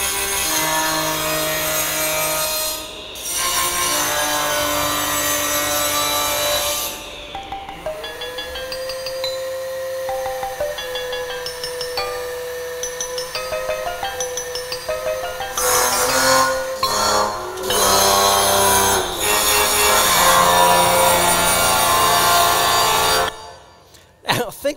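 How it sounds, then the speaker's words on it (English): Beethoven's Fifth rendered on table saws, their whining blades rising and falling in sustained pitched tones, punctuated by metallic brake drum hits, loud and continuous for most of the stretch with brief gaps. "Who would have thought that you could play Beethovens Fifth on a table saw"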